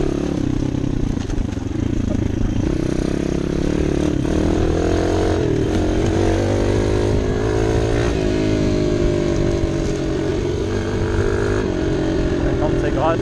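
A 2018 Bastos Dirt 140 dirt bike rides along, its engine buzzing and revving up and down close by over continuous rumble, with someone talking over it at times.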